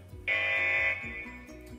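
A loud, steady electronic buzzer sounds for under a second, then cuts off, leaving a lower background hum with a repeating musical pattern.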